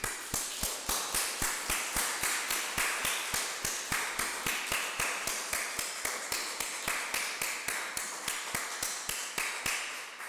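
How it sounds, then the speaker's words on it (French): A church congregation claps in unison, sharp rhythmic claps on a steady regular beat, evenly spaced and sustained throughout. "Alors applaudissons Dieu."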